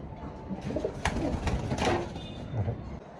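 Short-face pigeons coo in low, soft murmurs close by, with some rustling and handling noise around them.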